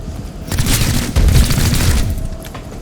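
Loud burst of gunfire in XCOM: Chimera Squad, a rapid fusillade of heavy booming shots rolling together over about two seconds, then tailing off.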